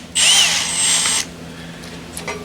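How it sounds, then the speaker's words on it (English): A power drill spins a bit down through the oil passages of an AMC 304 V8 engine block during cleaning: one steady, loud whirring burst lasting about a second, then it stops, leaving quiet shop background. "I actually take a drill bit of the appropriate size and I run it all the way down through"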